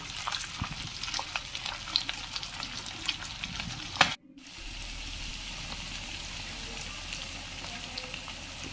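Anchovies fry in a pan with a dense, crackling sizzle and popping spatters; after a sharp clatter midway, a quieter, even hiss carries on to the end.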